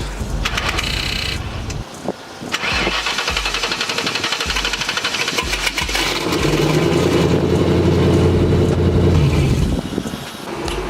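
A turbocharged Ford Thunderbird fitted with a new stall converter cranks and fires up, then settles into a loud, steady running rumble with a rougher, heavier drone in the second half.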